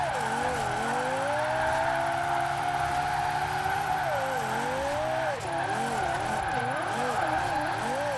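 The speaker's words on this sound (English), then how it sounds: "It definitely has the torque to spin those wheels." A Lexus LFA in the video game Forza Horizon 4 revs hard with wheelspin, its engine note holding a loud, continuous wail. The pitch sweeps up and down as the tires slip, with a faint squeal underneath.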